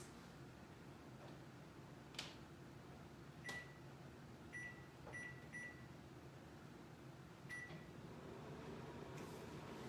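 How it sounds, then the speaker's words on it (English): A microwave oven hums faintly in a kitchen while reheating egg bites, a low steady drone with a few soft beeps and clicks scattered over it. "Just going to set the microwave for another 15 seconds."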